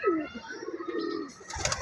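Pigeons in a sky pigeon loft give a brief, fairly close low coo, with a soft burst of fluttering or rustling at the end.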